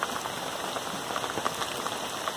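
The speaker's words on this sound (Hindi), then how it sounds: "बारिश बहुत ज़ोर की हो रही है" Heavy monsoon rain pours down on flooded village paddy fields, a dense, steady hiss of drops striking water and surfaces, close and constant with no talk.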